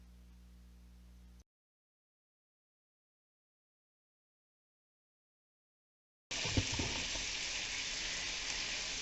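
Bacon slices sauteing in a pan for green beans give a steady, close sizzle that starts abruptly after a quiet stretch, following a short low hum at the start.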